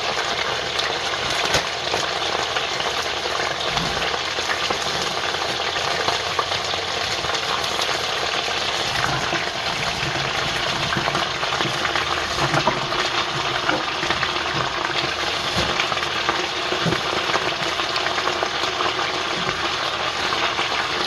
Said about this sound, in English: we got a lot of sizzling going on the bottom over there